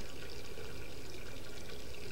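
Duke Nukem urinating into a bathroom urinal in the video game Duke Nukem Forever, a continuous close splashing stream of liquid, steady and alone without talk.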